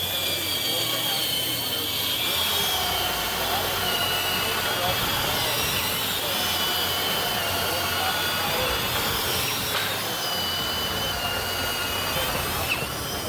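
A Milwaukee Hole Hawg drill runs on a new battery during a demonstration, giving a continuous loud motor whine with steady high pitched droning that holds nearly unchanged across the whole stretch, with a person talking over it.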